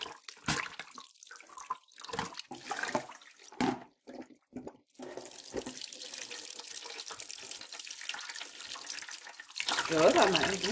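Running water from a tap pours over ingredients being rinsed for a Thai hot pot, splashing in bursts then flowing steadily, close by, with people talking over parts of it.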